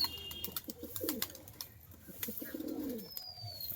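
High-flyer pigeons coo softly in a loft, several low, rolling calls rising and falling against faint background noise.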